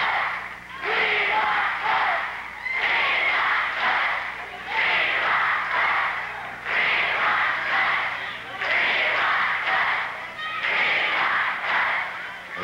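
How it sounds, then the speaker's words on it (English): A sellout crowd at the Portland Sports Arena chants in loud rhythmic bursts during an 80s pro wrestling match, each roar swelling and fading in a repeating pattern, with a few voices rising above the mass. "That's the cry of the crowd."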